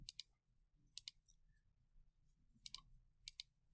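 Calculator buttons are pressed while values are typed in, giving crisp, faint clicks that come in quick pairs and small clusters with short pauses between, heard alone and close.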